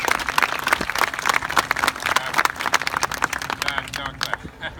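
Audience applause at a Purple Stride Houston charity event speech, a dense, steady patter of many hands clapping close by, filling the whole stretch before gradually thinning toward the end.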